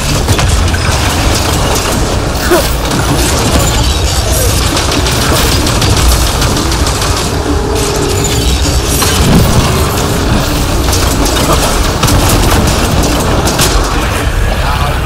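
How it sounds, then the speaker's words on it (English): Dense sci-fi combat in the video game Mass Effect: Andromeda, with a loud explosion buried in continuous gunfire, booms and chaotic battle noise that never lets up. "That's an explosion!"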